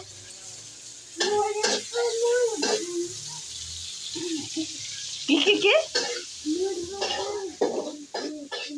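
Egg biryani (pilau rice) cooks in a pot, with onions frying, giving a steady soft sizzle and occasional stirring scrapes beneath intermittent nearby talking voices.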